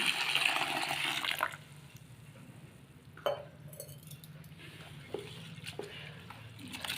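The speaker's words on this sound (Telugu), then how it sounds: "వాటర్ వేసుకుని కడుక్కుందామండి ఒక రెండు సార్లు కడుక్కుందాం" Water pours and splashes steadily into a bowl at first, then quieter swishing and a few light clinks as flattened rice (poha) is rinsed.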